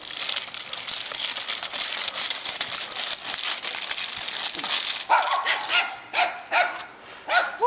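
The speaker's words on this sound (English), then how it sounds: "Is that the doggies? You see the doggies?" Dogs bark and yip in short, sharp bursts that grow louder and clearer toward the end, over rustling and crinkling noise on a walk with a baby doll stroller.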